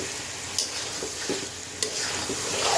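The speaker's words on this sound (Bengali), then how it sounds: "জিরার গুঁড়া দিয়ে নেওয়ার পরে আপনারা একটু নাড়াচাড়া দিবেন।" A spatula scrapes and stirs mixed vegetables seasoned with cumin powder in a frying pan, with soft sizzling underneath and a few sharp clinks of utensil against the pan.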